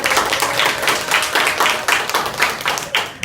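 Classroom applause for a student group in a Qur'an and Hadith lesson, a short burst of fairly close, uneven clapping from a small group lasting about three seconds.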